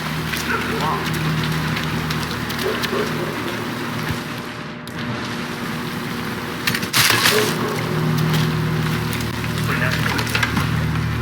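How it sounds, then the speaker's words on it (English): Steady rain falls in the Hitman 3 video game, a dense continuous patter on surfaces with a few sharper splashes and knocks, while voices talk over it. "Rain, rain, nothing but rain."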